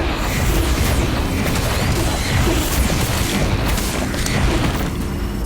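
Firecracker spell cast in the Harry Potter: Magic Awakened video game during a Quidditch brawl, giving a dense run of loud booms and crackling bursts over a continuous busy game-effects bed with no gap.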